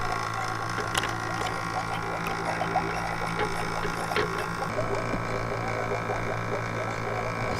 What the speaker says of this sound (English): now that we got the vacuum pump on